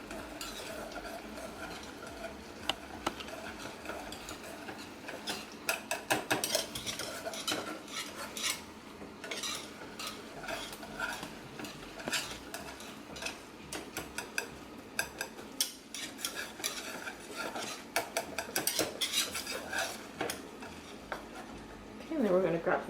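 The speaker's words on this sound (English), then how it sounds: "And then we're going to add 2 tablespoons of butter. Just stir that in there." Butter being stirred into a pot of pork chops, with a spoon repeatedly scraping and clinking against the pot over a soft sizzle, the strokes steady and close.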